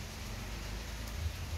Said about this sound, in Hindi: अब पड़ गई है बारिश